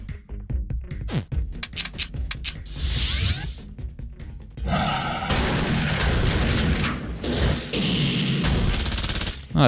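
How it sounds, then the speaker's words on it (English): Shotgun blasts and other weapon fire in The Thing RPG video game, a string of sharp, loud bangs in quick succession followed by longer bursts of noisy gunfire, with no voices. "this guy's got a shotgun. But luckily he missed."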